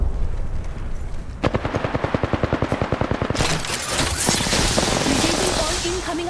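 Video game gunfire: a steady automatic burst of evenly spaced, loud close shots, followed by a denser, noisier wash of combat sound with a voice talking under it.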